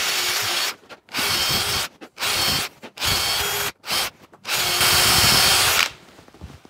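A power drill drives screws into timber battens on a wall, with several short bursts of whirring separated by brief pauses and one longer final run, up close and clear, without talk.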